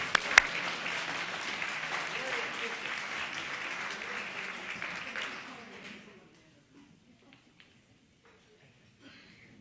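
Banquet guests at a 50-year club class reunion break into applause that is strongest at first, then tapers off and fades to near silence with a few stray claps.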